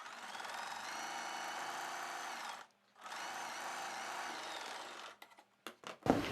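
Sewing machine stitching thread piping onto a plain square-neck blouse, a close, steady mechanical whir in two long runs split by a short pause, then a few brief stop-start bursts and a clunk.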